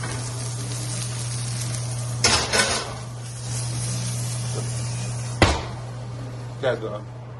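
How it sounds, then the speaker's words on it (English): A steak sizzles steadily in a hot pan, a constant close hiss over a low hum, broken by a couple of brief clattering bumps. "Okay, and now the steak goes in."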